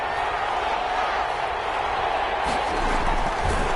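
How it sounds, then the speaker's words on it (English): Crowd noise in a Madden football video game, a steady broad roar of a stadium crowd that lifts slightly toward the end, with a brief sharp burst midway. "The crowd getting into it as we come up on a big 3rd down."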